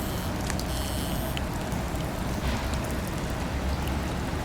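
Heavy rain pours down in Seattle, a dense, loud, continuous patter of drops on surfaces with no break.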